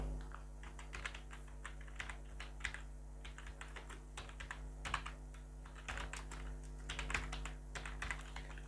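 Quiet bursts of key clicks on a computer keyboard come in irregular clusters as text is entered into a web browser, over a low steady hum. Nobody talks.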